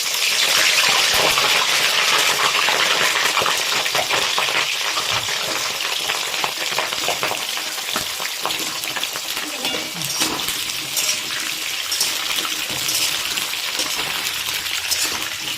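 Washed, cut cauliflower fries in hot oil, giving off a loud, steady sizzle with crackling and bubbling throughout.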